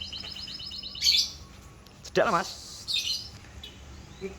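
Canaries imported from overseas chirp in short bright bursts, trilling intermittently close by, while someone speaks briefly over the birds in an indoor setting.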